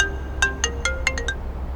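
Phone ringtone playing a quick series of six bright electronic tones over a low background hum.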